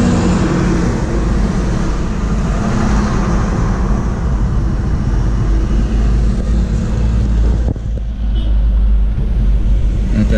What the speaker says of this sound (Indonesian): Ini bus Ramayana nih.